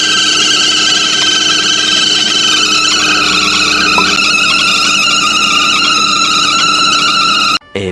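A car engine's drive belt squeals loudly over the running engine, a sustained, piercing whine that stays steady up close before cutting off abruptly near the end.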